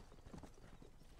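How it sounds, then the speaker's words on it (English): Horse hooves clip-clopping at a riding pace in Red Dead Redemption, a quick, even run of soft hoofbeats at moderate distance with faint background ambience. "What's so attention grabbing with a goddamn horse ride?"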